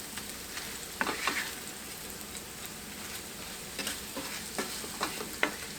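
Smothered potatoes fry with a soft, steady sizzle in a pan, broken by several scraping stirs and light taps of a utensil, close and fairly quiet, with no one talking.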